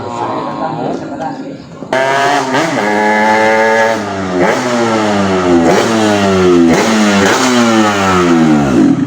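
A motorcycle engine revs repeatedly nearby, each throttle blip rising and falling in pitch in a loud series of surges over a rough idle.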